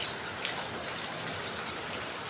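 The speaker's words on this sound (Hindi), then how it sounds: "बारिश पूरा चालू हो गया है ना गाइस" Heavy rain falls in a steady, dense hiss with a watery gushing quality, constant and fairly near, with no voices.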